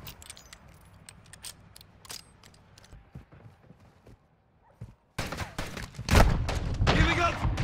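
A Modern Warfare 2 weapon reload clicks and clacks in a sparse sequence of metallic handling sounds, followed by loud, close gunfire and action bursts in the second half.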